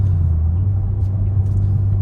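BMW M4 inline-six engine in a 2023 car hums steadily at low RPM while cruising, a loud, even low drone with road rumble and no voices.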